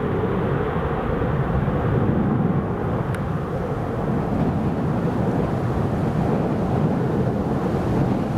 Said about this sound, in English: Here goes the Ryanair.